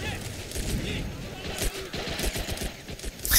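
Machine-gun bursts from sandbagged emplacements rattle in a competitive strategy-game tournament match, dense rapid fire with booming impacts while a commentator talks over it.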